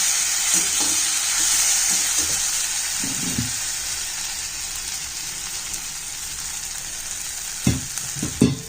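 Food sizzles and fries steadily in a large pan as it is stirred, with a few sharper scraping clatters of the spatula near the end; no talking.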